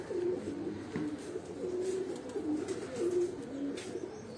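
Pigeons on a rooftop coo in soft, repeated rounds, close by but fairly quiet, over faint background noise.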